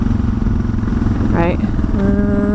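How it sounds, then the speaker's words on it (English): Motorcycle engine braking after the rider eases off the throttle, a steady low engine drone and rumble running throughout, with a short spoken word and a brief shift in engine tone near the end. "And then I'm going to lay off the throttle and you can hear the engine braking."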